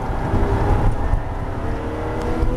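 A Porsche GT3 engine pulls hard on the Circuit JP Beltoise race track: a steady, loud, rising drone heard from inside the car, continuous through the whole stretch with no talk over it.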